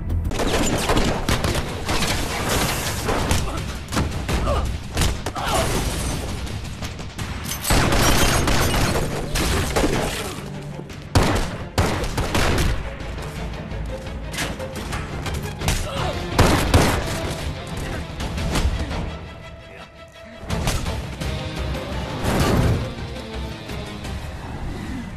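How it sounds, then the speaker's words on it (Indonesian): Shootout gunfire from a Jason Statham action film: dense volleys of shots mixed with booms, engine roars and a tense score, loud and continuous, under a narrator's voice at times. "Dalam situasi terdesak, Steve terpaksa menembak seorang penjaga dan berlari menyelamatkan diri"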